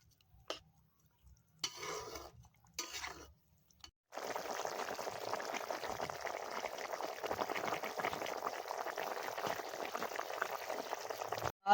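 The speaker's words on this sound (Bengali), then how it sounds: "তো বন্ধুরা এদিকে ঝোল ফুটে গেছে," Fish curry broth boils in a pot over an outdoor fire in a forest. A few faint bubbles and pours come first, then a steady, soft bubbling simmer follows.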